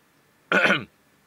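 One short, sharp cough, close and fairly loud, bursting out of near silence and fading within half a second.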